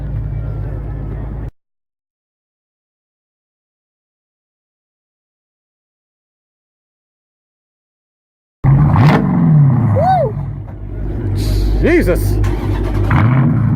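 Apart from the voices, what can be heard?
American muscle car engine revving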